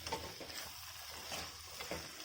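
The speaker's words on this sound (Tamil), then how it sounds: "உப்பெல்லாம் நல்லா கிண்டிக்கிட்டே இருக்கணும்" Mango thokku being stirred with salt in a pan, a soft continuous sizzle with light scraping strokes of a spoon coming through at a steady, moderate level, no voices.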